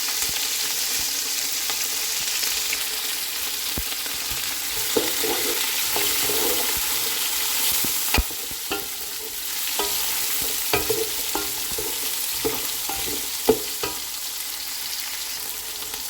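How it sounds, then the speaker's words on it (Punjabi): Chopped onion, ginger and garlic sizzle in hot spiced oil while a spoon stirs and scrapes the pan, a steady close frying hiss broken by intermittent clinks and scrapes. "ਪਿਆਜ਼ ਨੂੰ ਅਸੀਂ ਥੋੜ੍ਹਾ ਜਿਹਾ ਇਹਦੇ ਵਿੱਚ ਹਿਲਾ ਲਵਾਂਗੇ ਤਾਂ ਕਿ ਪਿਆਜ਼ ਵਿੱਚ ਵੀ ਅੱਛੀ ਮਸਾਲੇ ਦੀ ਖੁਸ਼ਬੂ ਆ ਜਾਵੇ"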